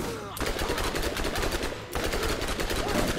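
Rapid automatic gunfire from the Borderlands video game rattles in dense, sustained bursts, loud and continuous with a brief break near the middle, with a voice faintly present underneath.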